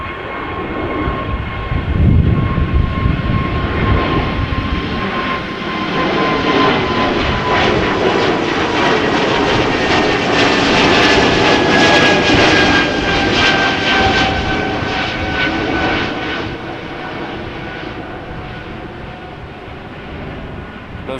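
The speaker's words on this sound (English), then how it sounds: "Another A220 from Air Baltic, this one going to Tallinn" An Air Baltic Airbus A220 departing Amsterdam Schiphol for Tallinn on a windy day roars loud and steady, its engine noise swelling toward the middle before slowly fading into the distance.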